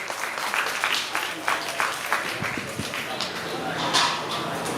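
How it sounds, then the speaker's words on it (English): A crowd applauds at a drift qualifying round in Miri, Sarawak, a moderate patter of clapping with brief louder swells, while a commentator's voice carries over it. "A round of applause, ladies and gentlemen, for Min Van Qua."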